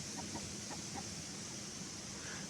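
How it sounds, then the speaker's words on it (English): A chicken clucks softly in a few short, quiet notes near the start, faint and somewhat distant over a steady hiss of background noise. "We've got a chicken."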